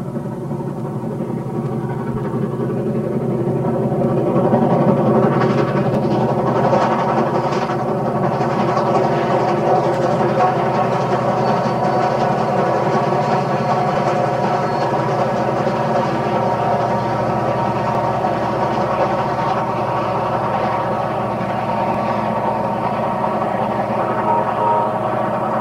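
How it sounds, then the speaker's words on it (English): Southern Pacific 4449 Daylight steam locomotive climbs uphill near Black Butte toward the summit in 1981, a steady heavy roar of engine and train rumble with layered drones, fairly loud and sustained throughout, swelling slightly early on. "Pulling uphill, she charges hard, steaming past Black Butte and heading for the summit a few miles ahead."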